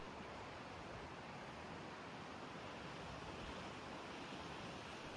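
Ocean waves wash in a soft, even hiss of surf, faint and distant, with no distinct breaks standing out and no voices.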